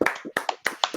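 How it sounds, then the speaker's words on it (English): A few hands clap in a short, uneven burst of about six or seven sharp claps for Jim, close and dry with brief gaps between them. "Claps for the Jim."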